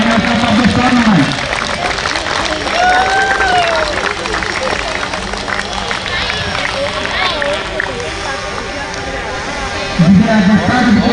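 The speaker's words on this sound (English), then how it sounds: "A big round of applause to Team Herons for runners-up of this tournament." A crowd at a cricket tournament final gives a runners-up team a round of applause, a dense, sustained patter of many hands clapping with cheers and chatter mixed in, loud and continuous.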